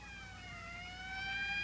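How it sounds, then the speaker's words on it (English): Police siren in a 1959 sci-fi film, a faint wailing tone that slowly glides and grows slightly louder as it approaches, heard alone with no talk. "That's the 5th siren in the last hour."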